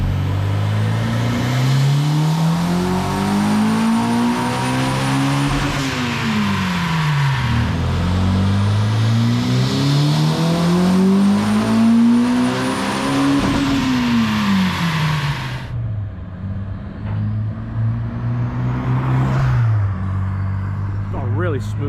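A motorcycle engine revs repeatedly in rising and falling sweeps, loud and close, then settles to a lower steady idle with a final blip; a voice talks faintly over it.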